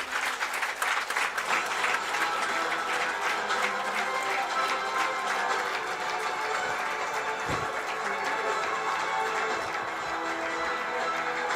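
A crowd applauding at the curtain-raiser launch of the India International Science Festival, sustained dense clapping that stays loud and even throughout.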